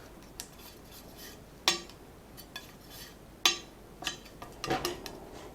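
A palette knife works sticky oil paint blended with a lean mix across a palette, giving close, irregular scrapes and a few sharper taps and clicks against a quiet background, with no voices.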